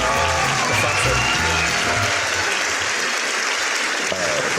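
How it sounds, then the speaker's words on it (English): Sustained applause from an audience at an award-focused talk show taping, a steady wash of clapping lasting the full few seconds with some crowd noise mixed in. "Let me give a round of applause for that."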